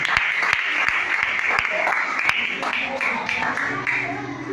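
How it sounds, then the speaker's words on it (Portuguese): Church congregation in Águeda applauding their bishop, a moderate patter of hands with several sharp distinct claps standing out over it, with voices mixed in. "esse aplauso para o nosso bispo."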